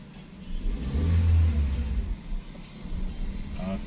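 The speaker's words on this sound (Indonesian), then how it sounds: "Angkat kopling perlahan, kemudian gas tekan perlahan" A learner driver's car engine rumbles low and steady, swelling into a mid-clip rev as the clutch comes up and the throttle is gently pressed, then settling to an even idle-like hum with no talk.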